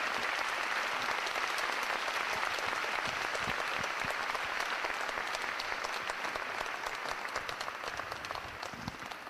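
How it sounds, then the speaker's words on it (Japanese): Loud, sustained applause from a lecture hall audience after a talk in Hamamatsu, dense and continuous clapping that fades slightly toward the end. "素晴らしいお話をしていただきました斉藤ひとりさんにもう一度大きな拍手をお願いいたします。"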